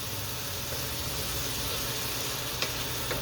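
Chicken marsala with mushrooms sizzling in a hot pan with a bit of liquid, a steady loud hiss throughout with a faint scrape from stirring near the end.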